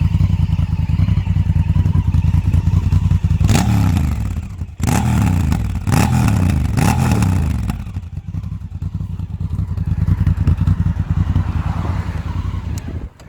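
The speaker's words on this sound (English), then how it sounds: "let's see if we can get some of this exhaust note" Honda Africa Twin Adventure Sports motorcycle running through its stock, unmodified exhaust can, close and loud: a steady rumbling idle broken by several sharp throttle blips, then settling back to a lumpy idle with one more rise.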